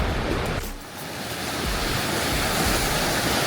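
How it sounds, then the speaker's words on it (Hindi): A river flows on the Chopta Tungnath trek as a steady, loud broadband rush of water, mixed with wind buffeting the microphone. "ये है बहाव नदी का"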